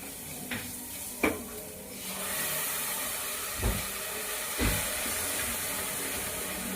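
Chopped tomatoes drop into browned onions frying in a pan, with a few sharp clanks of utensils against metal over a steady background hiss.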